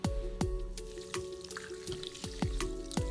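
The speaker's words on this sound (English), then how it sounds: "filling the flask with ice and then adding water" Water poured into a flask filled with ice, giving soft, faint trickling with a steady series of sharp clinks and drips at regular intervals, close by and alone.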